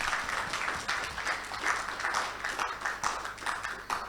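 Steady applause from an audience at a bank directors' annual summit, a dense wash of clapping that holds at an even level throughout with no voices standing out.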